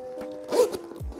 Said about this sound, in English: it has a zipper on, so your thing's not really gonna fall off